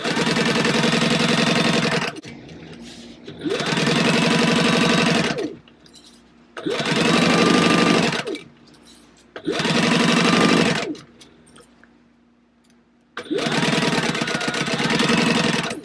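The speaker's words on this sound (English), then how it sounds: "let's go sew that at 1/4 inch" A sewing machine stitches fabric pieces for a fanny pack at a quarter-inch seam with a 3-stitch length, running in five loud sustained bursts with short pauses between them, no talking.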